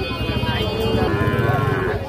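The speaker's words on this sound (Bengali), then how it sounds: "এই যে এইটা 6-7 মাস বয়স হতে পারে, শাহিওয়াল সার বাছুর।" A six to seven month old Sahiwal bull calf moos at the Ambari cattle market, a single drawn-out low call heard close up with the market's background bustle.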